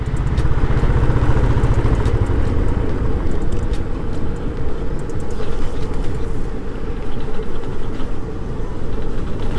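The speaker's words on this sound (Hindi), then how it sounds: "भाई साहब अचानक पावर निकल गया बाइक का।" Motorcycle on a mountain road from Gangtok toward Islampur suddenly losing power: a low engine tone fades after a couple of seconds, leaving loud, continuous wind and road rumble close to the mic.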